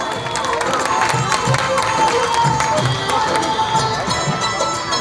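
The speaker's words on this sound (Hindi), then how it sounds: "एक बार जोरदार तालियां" Crowd noise at an outdoor AAP gas pipeline inauguration event in Mangolpuri, Delhi, with dense, steady clapping and cheering blended with a murmur of voices and some shouting throughout.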